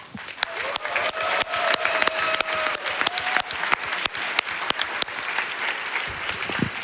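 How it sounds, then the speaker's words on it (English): Sharp, dense clapping from a speedrun event audience, loud and close, continuing throughout with crisp individual claps standing out. "So let's give them a round of applause."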